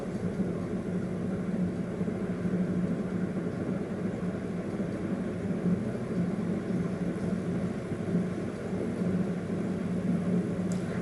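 Low, even sizzle of chicken frying in a pan for pulao, steady and continuous at moderate distance with no talking.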